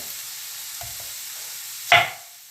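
Steady broadband sizzle of garlic frying in a hot pan, with a brief louder burst near the end as something is stirred or tossed in.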